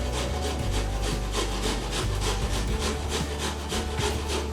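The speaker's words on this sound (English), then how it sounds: "so we're going to grate the ginger" Fresh ginger rubbed against a grater for a Jamaican sorrel drink, a steady close rasping with quick rhythmic back-and-forth strokes throughout, no talking.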